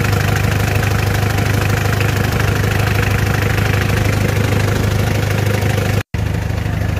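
A Mitsubishi 4D56 turbo diesel engine idles steadily and close, a continuous low throbbing hum with a slight knocking texture that cuts out abruptly for a split second near the end before resuming.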